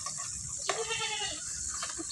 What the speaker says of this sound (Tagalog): Yung kambing, oh.